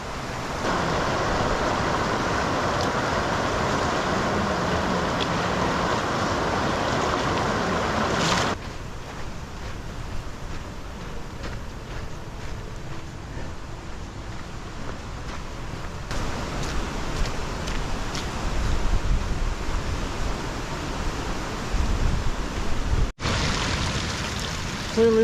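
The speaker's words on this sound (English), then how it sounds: "there's one of the river crossings I've got to get across" A snowmelt-swollen river rushes steadily at a backcountry crossing being waded, a continuous broad roar close by, shifting in texture partway through with wind buffeting the microphone.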